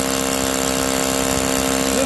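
Heavy-duty hammer drill boring steadily through a solid concrete block with plywood behind it, a continuous loud grinding drone with a strong motor hum and no pauses, alone without speech.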